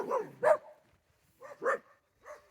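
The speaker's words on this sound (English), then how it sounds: "don't mind the street dogs" Street dogs barking on a hillside trail walk to Taxopamba Waterfall near Otavalo, Ecuador: a couple of moderately near barks, a pause, then a few more, quieter and sharper, with no talking over them.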